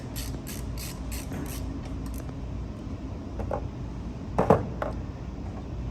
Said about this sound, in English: So at this point we're just taking off these two bolts on the back.